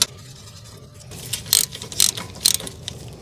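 Ratchet wrench clicking as a 10mm bolt is driven into a wheel speed sensor on a Toyota RAV4, a few close, crisp bursts of ratcheting after a quiet start.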